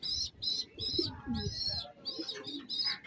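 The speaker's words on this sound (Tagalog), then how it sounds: "Barako pala yung ating ibon na abuhin. Checkered, ayan, no?" Grey checkered male pigeon coos close by in a series of repeated rolling calls with short gaps between them.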